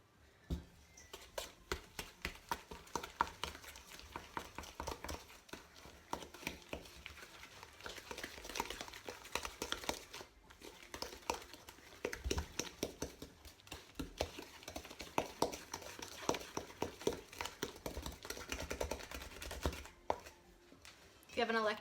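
A wooden spoon creams butter and sugar together in a mixing bowl for banana bread, making steady, close scraping and thumping strokes in an irregular rhythm for the whole stretch, with no talk over it.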